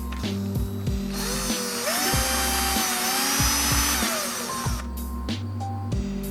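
A handheld power drill bores holes into a wooden shad jerkbait lure without a drill press: a close, steady motor whine with shifting pitch, broken by short stops and clicks as the bit catches and restarts.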